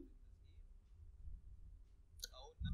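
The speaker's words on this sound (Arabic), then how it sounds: "طيب ندوس على حرف الذال مرة تانية ترجع الشكل أو ترجع المعاينة لشكلها الطبيعي" One crisp key press clicks on a computer keyboard, faint and short against a low background hum, with no talking.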